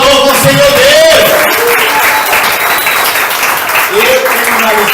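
A church congregation at a family worship service claps in a broad, continuous wash of applause, while someone speaks loudly over it on a microphone.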